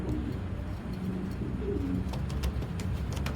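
Racing pigeons coo steadily amid a dense, continuous background of shuffling and murmuring noise, with no voices.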